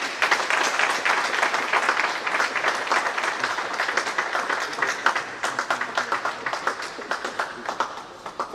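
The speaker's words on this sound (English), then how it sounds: "I want us to give him a round of applause" A seated audience at an HR leadership business event applauds a speaker who has just presented, sustained clapping that stays loud and full before thinning into scattered claps toward the end.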